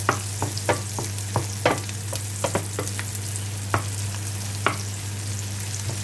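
Pizza toppings fry in a pan with a steady loud sizzle, broken by repeated sharp scrapes and clicks of stirring at an irregular rhythm, close up and with no voices.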